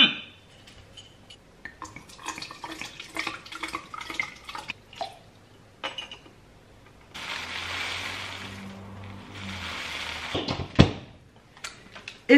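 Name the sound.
pouring water for oat plant milk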